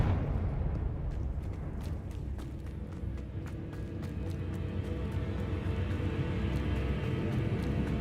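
Fiery Confringo blast spells from Hogwarts Legacy, a video game, erupt in a dense, continuous rumble of explosions with scattered sharp cracks riding over a steady low roar.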